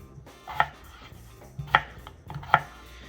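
A knife cuts through roast potatoes in three crisp, separate chops spaced about a second apart, each a sharp close strike on a board with faint soft handling noise between.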